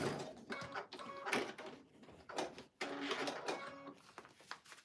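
Sewing machine stitching Easter Peeps quilt fabric for a bunny design, faint rhythmic mechanical whirring in short runs separated by brief pauses.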